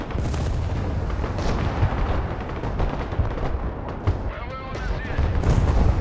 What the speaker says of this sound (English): Firing plenty of missiles into the building there.